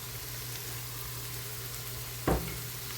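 Garlic and ginger sizzle with paprika and salt in a stew pot, a steady soft hiss with one sharp clatter near the end.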